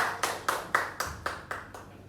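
Eight slow, evenly spaced rounds of clapping from a small audience in a teaching session, each a sharp burst that fades quickly, fairly quiet overall.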